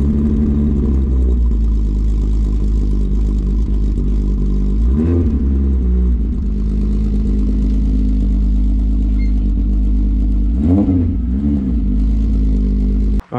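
Diesel engine of a VW MK4 TDI wagon idles and rumbles steadily up close as the car is moved, with a couple of brief revs swelling the low drone.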